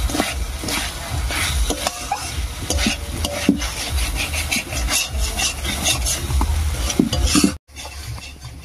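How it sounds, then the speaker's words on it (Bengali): Gobindobhog rice and potato sauté with spices in a pan, a loud close sizzle mixed with brisk scraping stir strokes that run steadily, then cut off abruptly near the end before a quieter hiss resumes. "এবার মশলার সঙ্গে একটু কষিয়ে নেব"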